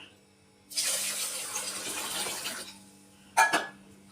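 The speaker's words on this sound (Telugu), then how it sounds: "ఇలా వాటర్ పోసి" Water pours into a bowl of washed rice to soak it for dosa batter, a steady gushing fill lasting about two seconds, then a brief splash near the end.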